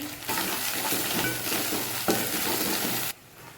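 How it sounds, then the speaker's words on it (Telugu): Ginger garlic paste fries in a pan with a dense, continuous sizzle and scraping stirs, close and fairly loud, before cutting off sharply to near quiet at the end. "అల్లం వెల్లుల్లి పేస్ట్ పచ్చివాసన వేయడానికి ఫ్రై చేయాలి"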